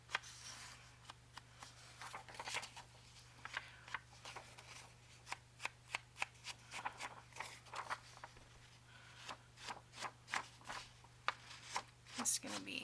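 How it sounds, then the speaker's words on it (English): Ink being rubbed around the edges of a paper envelope for a grungy journal look, a series of quick, close scratchy dabbing strokes in irregular rhythm, soft and near in a quiet room. "ink around the edges of the envelope"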